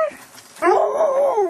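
A sled dog in a dog yard gives a brief whine, then breaks into a loud, wavering howl close by, as if singing.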